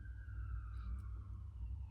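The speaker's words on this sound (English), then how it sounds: "Sirens outside." A siren wails outdoors in the distance, a thin, steady tone drifting slightly in pitch over a constant low rumble, faint but continuous for the whole moment.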